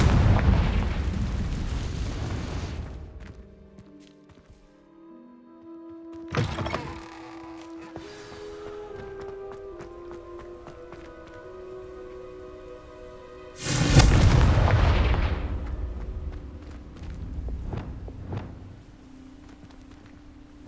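Booming fire-spell explosions from the Confringo charm in the wizarding video game Hogwarts Legacy: three heavy blasts, one at the start, a smaller one midway and a big one later, each rumbling over a sustained musical score.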